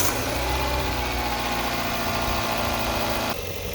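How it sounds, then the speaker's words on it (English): The engine of a 2009 Kia Spectra, suspected of bad piston rings and just dosed with oil, idles steadily and fairly loudly close by, with a constant low mechanical drone throughout and a brief shift near the end. "Now I'm going to just start it up."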